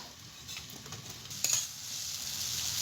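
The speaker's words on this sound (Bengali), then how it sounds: "সবজিটাকে আমি ঢাকা দিয়ে দেবো ঢাকা দিয়ে ভেজে নেবো তাহলে সিদ্ধ হয়ে যাবে" Vegetables frying in a covered pan, a soft, faint sizzle with light stirring and a small clink partway through.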